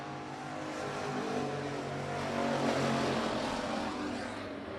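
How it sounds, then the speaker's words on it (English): Street stock race cars roar around a night speedway, a loud continuous engine drone that swells briefly as the pack passes close, with no talk over it. "Kyle Bertram in car 19 taking an early race lead."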